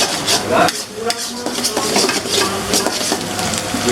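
Mie goreng fried noodles stirred in a pan, a loud and close run of metal utensil scrapes and clanks on the pan, repeated in an uneven rhythm over faint sizzling.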